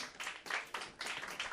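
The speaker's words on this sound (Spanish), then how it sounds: "Denle un aplauso al Señor" A church congregation applauding, with quick bursts of clapping rising and falling in several short waves, heard from a moderate distance.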